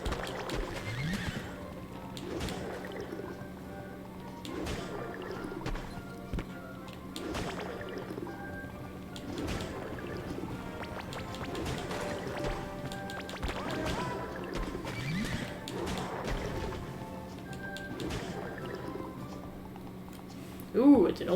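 Seahorse in the SpongeBob Cosmic Shake video game, with repeated loud neighs and whinnies over a continuous clip-clop gallop, the calls recurring at a roughly regular pace under game music.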